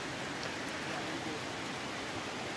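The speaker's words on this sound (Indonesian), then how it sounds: "Hujan agak lama, sekitar setengah jam." Steady rain falls over rice fields in a farming area, a soft, even hiss that holds without breaks throughout.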